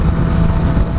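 A motorcycle engine idling steadily, close and loud, with a low rumbling pulse and no voices.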